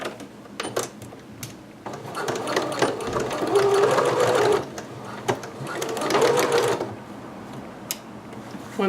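A sewing machine stitches a garment from a sewing pattern in two sustained runs of whirring and clattering needle action, close by, with brief pauses and small handling clicks between them.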